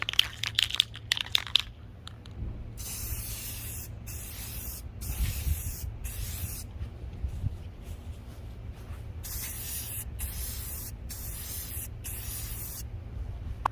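Repeated bursts of Rust-Oleum Satin Canyon Black aerosol spray paint hissing, each a few seconds long with short pauses between, close and steady, no voices.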